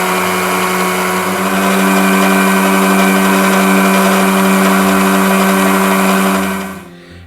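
An electric whisk beating oil into mayonnaise runs as a steady, loud motor whine with a constant hum throughout, then winds down and stops at the end.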